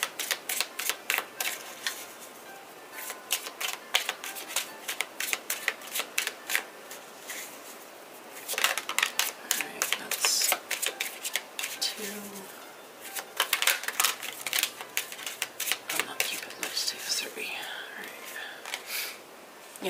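Tarot cards are shuffled in repeated bursts of crisp riffling and flicking, close and fairly loud, with pauses between rounds and a soft voice murmuring at times.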